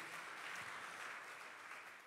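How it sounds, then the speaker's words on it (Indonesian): A dense burst of church congregation applause, loud and continuous, with many hands clapping together and no voices over it. "Tepuk tangan bagi Tuhan Yesus."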